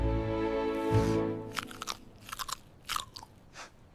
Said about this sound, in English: I can take a giant bite.